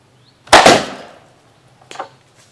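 Blunderbuss slingshot launching a wooden block: one sharp, loud snapping crack with a brief trailing rattle, followed a second later by a softer knock, close up with no talking.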